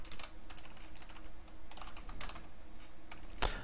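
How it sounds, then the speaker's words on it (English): Rapid, uneven typing on a computer keyboard, close and steady, with a dense run of clicks and a sharp louder tap near the end. "I cannot type today, wow."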